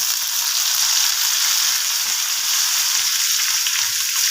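Loud, continuous sizzle and crackle as a tomato is dropped into hot oil already holding turmeric and ginger, for a Bengali potato and pointed gourd curry. The frying hiss is steady and close throughout, with no talk.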